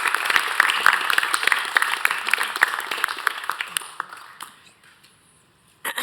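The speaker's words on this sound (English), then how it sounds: "how about a round of applause for some of those employees who might be here today?" Audience at a city council meeting applauds city crew employees, a dense round of clapping that slowly thins and fades to near silence before a brief sound at the end.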